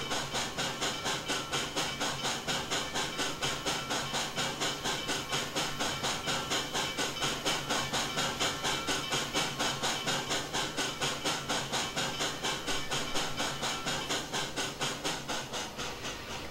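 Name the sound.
steam locomotive running in the video game Trainz 2019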